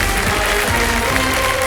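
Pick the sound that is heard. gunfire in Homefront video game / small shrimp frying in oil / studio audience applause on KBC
studio audience applause on KBC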